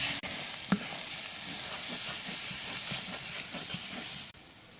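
Spices fry with onions in oil in a pan, giving a steady, soft sizzling hiss with a few faint stirring clicks, close and fairly quiet.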